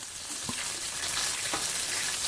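Chopped garlic sizzles in hot oil while making pizza sauce, a steady bright frying hiss with a couple of soft stirring scrapes, close and even throughout.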